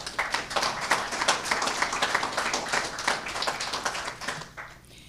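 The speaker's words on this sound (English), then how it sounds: "Can we give a round of applause one more time to all of our" Audience applauds promoted officers at a Winston-Salem police promotion ceremony, dense steady clapping that fades out near the end.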